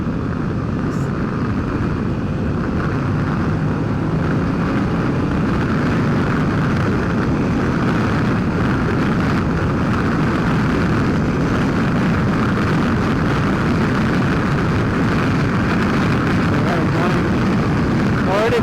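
Steady loud wind roar and engine drone while riding a BMW F900XR motorcycle on the Autobahn, a dense unbroken rush that holds at the same level throughout with no voices.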